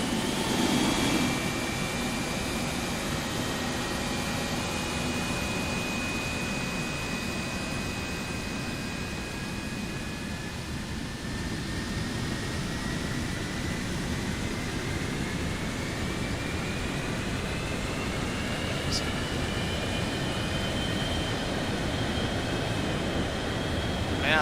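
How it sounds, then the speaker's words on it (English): Simulated jet engine spool-up on a Boeing 727 freighter, engine number 3 starting in a flight simulator: a steady broadband roar with a slowly rising whine that climbs over the whole stretch, no talk over it. "Right, fuel coming in for engine number 3."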